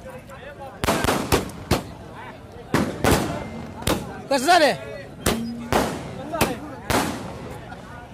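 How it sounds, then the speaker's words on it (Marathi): Firecrackers and fireworks cracking nearby at a Sangola livestock market, sharp loud bangs in an irregular series of about a dozen pops, with a whistling rocket rising midway, over crowd chatter and talk. "साइडला तोफा उडत चालू आहेत मित्रांनो"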